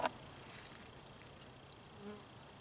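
Honeybees buzz softly around an opened hive while honey frames are harvested in the final inspection of the season, a faint steady hum with a brief knock at the start.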